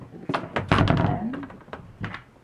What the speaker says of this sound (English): did I just slam the door on you?